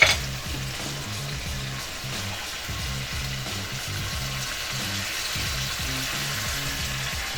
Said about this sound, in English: We're going to add some heavy whipping cream.